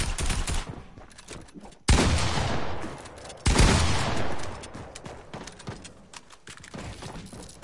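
Video-game gunfire erupts in loud bursts and rapid volleys, with two sharp, heavy blasts cutting in partway through, followed by scattered shots and mechanical clatter.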